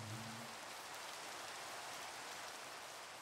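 Rain in the Minecraft video game, a dense, steady hiss of falling drops that runs evenly and softly throughout with no talk, a faint low tone fading out in the opening half second.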